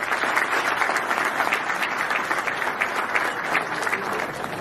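Sustained audience applause at a Pakistani event, dense and loud, many hands clapping evenly throughout with no break.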